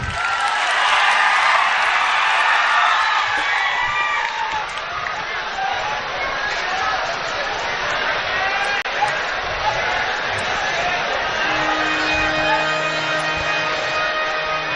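An audience claps and cheers at a live Gujarati folk performance, a broad, steady wash of applause from a large crowd that fills the scene at a constant level and slowly thins toward the end.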